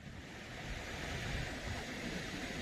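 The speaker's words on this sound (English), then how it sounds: "Look at how white those crests of the waves are" Ocean waves with white crests break on Guardamar Beach in Spain, a steady, continuous wash of surf and roar with some wind noise, with no talk.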